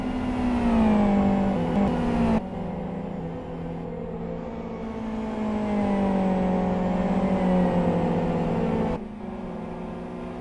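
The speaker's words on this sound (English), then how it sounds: "Just listen to that engine. It can barely get up to revs." A race car engine in a racing video game drones at a sustained, strained pitch that slowly rises and falls, struggling to climb the revs, loud and continuous with no talk.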